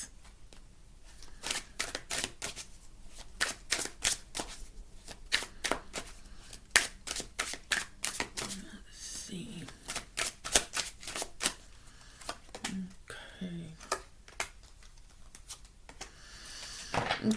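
Tarot cards being shuffled close up, a long run of crisp riffling bursts and flicks in an irregular rhythm, fairly quiet, with no voices.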